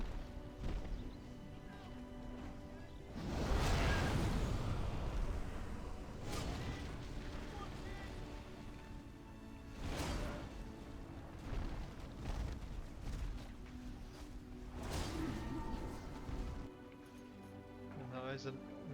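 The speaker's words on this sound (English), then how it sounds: "Nice fire breath." Fire breath attack striking a base in a strategy battle: several loud roaring, rumbling blasts surge and fade across the stretch, with a commentator talking throughout and steady background game noise between the bursts.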